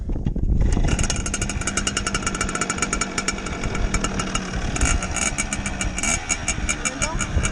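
A motorcycle engine runs on choke, close by, with a rough, rattling idle that stays steady and loud throughout, with no voices.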